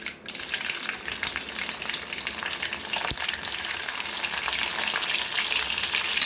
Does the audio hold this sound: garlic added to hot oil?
yes